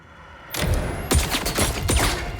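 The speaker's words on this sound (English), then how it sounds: "And I'm being shot at." Gunfire aimed at the player in First Light starts abruptly after a quiet moment, with several loud, close shots cracking in quick succession over a lingering rumble.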